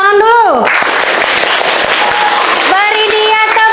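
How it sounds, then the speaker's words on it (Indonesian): A classroom group claps together in a dense burst of applause, with voices and tonal sound laid over the start and end of it. "Oke, tepuk tangan dulu."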